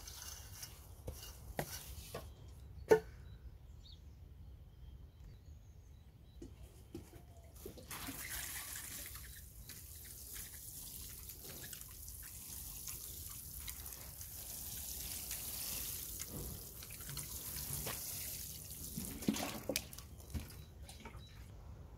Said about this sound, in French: Donc là maintenant je vais arroser en surface.